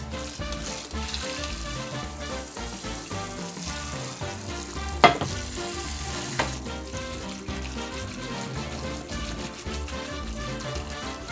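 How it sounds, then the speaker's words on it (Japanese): Boiled soba noodles are rinsed under running tap water in a kitchen, a steady, close rush and hiss of water with handling and stirring noises and a sharp clack partway through. "流水でぬめりを落とす。"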